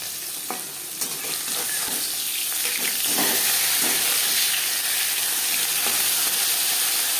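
Bata fish frying in a pan of hot oil, a steady close sizzle and hiss that runs throughout, with occasional soft spatters and stirring scrapes and no voices.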